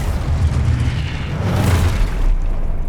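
Confringo fire spell explosion in the video game Hogwarts Legacy, a loud, booming burst with a rumbling low-end roar that swells and fades over a few seconds, heard alone without talk.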